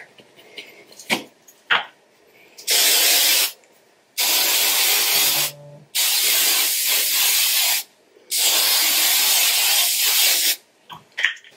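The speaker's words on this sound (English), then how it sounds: "Here, spray my hair." Four loud, close bursts of hairspray hissing onto hair, each lasting about a second or two, separated by short gaps with faint rustling.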